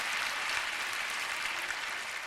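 Steady applause from an audience at a Korean prayer meeting lecture, a dense, continuous wash of many hands clapping throughout with no talk over it.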